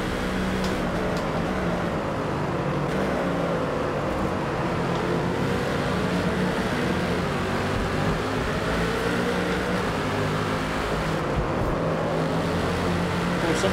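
Race cars in the video game Forza Motorsport drone steadily, a dense continuous engine roar from several cars at once, loud and unbroken throughout with no talking.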